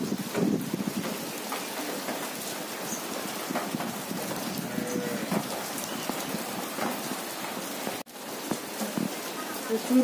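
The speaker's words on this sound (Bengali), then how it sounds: "প্রচুর পরিমাণে বৃষ্টি হচ্ছে," Heavy rain pours down outdoors onto a waterlogged street, producing a dense, steady hiss with scattered drop impacts throughout. The rain cuts out briefly near the end, then resumes.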